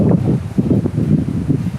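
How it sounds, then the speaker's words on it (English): Wind gusts outdoors near Marble, Colorado, a steady low rumble buffeting close to the microphone and rising and falling in uneven surges throughout, with no voices. "right now the wind is blowing"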